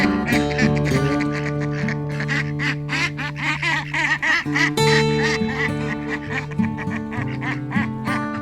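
A mother duck quacks repeatedly in a steady series of close, loud quacks over a continuous tonal background.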